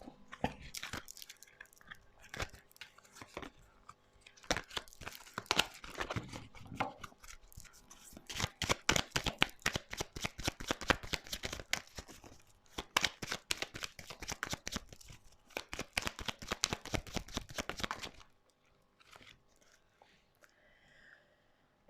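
Tarot cards shuffled by hand at close range, a quiet run of soft riffling flutters and taps that grows into dense rapid bursts from about eight to eighteen seconds before stopping.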